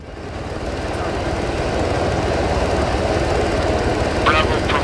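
A helicopter in the video game Arma 3 drones with a steady, loud rotor and engine roar that builds slightly and holds throughout, with faint radio-like chatter briefly at the end.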